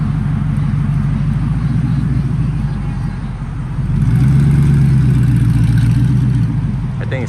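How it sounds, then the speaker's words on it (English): A Ford GT with a V8 engine and manual transmission rolls up at a morning supercar meet, its deep engine rumbling steadily close by, swelling slightly louder partway through as it moves past. "Got a Ford GT right here rolling up this morning."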